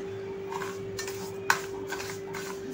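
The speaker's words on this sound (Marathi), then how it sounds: "हे मिश्रण रसामध्ये ही साखर छानपैकी आता आपण मिक्स करून घ्यायची आहे" A spoon stirs sugar into lemon juice in a bowl for a lemon sherbet premix, making soft scraping swirls with one sharper clink of metal on the container. It is faint and close, with no voices.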